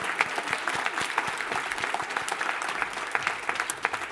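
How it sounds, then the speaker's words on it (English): A graduation ceremony audience gives the Georgetown Pivot Program Class of 2022 a sustained round of applause, dense clapping holding steady throughout with no voices over it. "could everyone join me one more time in giving a round of applause to Pivot Class 2022 on this amazing accomplishment?"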